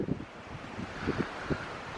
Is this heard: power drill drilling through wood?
no